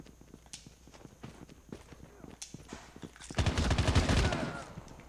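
Scattered single shots ring out in Call of Duty Mobile, then a loud sustained burst of automatic fire lasts about a second before fading.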